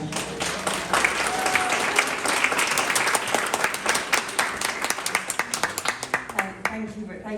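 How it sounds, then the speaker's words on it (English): An audience at a community radio conference in Coventry applauds its panel with dense, sustained clapping from many hands that thins into a few scattered claps before fading out. "Please give a big round of applause to your panel."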